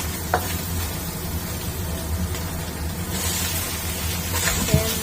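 Shallots and minced pork sizzle steadily in a pan while being stirred, a continuous close frying hiss with occasional scrapes and clinks, no voices.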